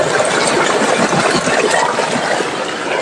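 Water gushes hard from the 4-inch delivery outlet of a solar open-well pump whose motor lifts 60 feet. The discharge is a close, continuous and forceful rush of water that stays even throughout.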